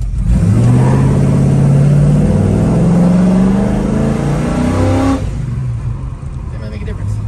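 Ford 302 V8 car revving hard during a burnout, a loud rising engine roar that climbs steadily for about five seconds and then cuts back to a lower rumble.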